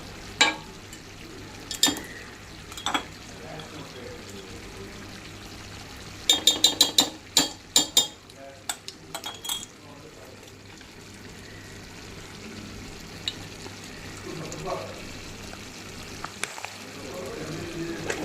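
Ghee and a little oil are poured into a preheated pot for Andhra natu kodi biryani, leaving a faint low sizzle with a burst of clinking metallic taps and scrapes midway before it settles back to a quiet hiss.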